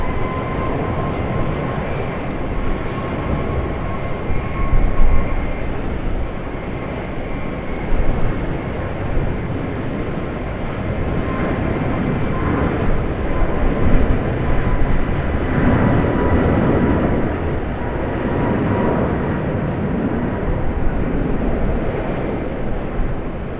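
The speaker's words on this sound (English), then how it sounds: "We've just got the Jetstar Airbus A321neo going to be heading out. Our first 321neo for runway 25." A Jetstar Airbus A321neo taking off from runway 25, a broad, steady roar of jet engines filling the air throughout and swelling slightly as it goes, heard from some distance outdoors.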